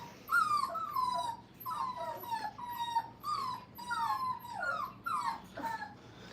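Young puppies, about five weeks old, cry in a training kennel: repeated high whimpers and yips rising and falling in quick succession, nearby and alone without speech.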